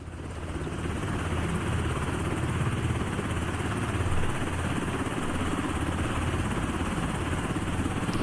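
Helicopter at the extraction point in the video game Beautiful Light, a loud continuous rotor and engine roar that holds steady throughout without speech.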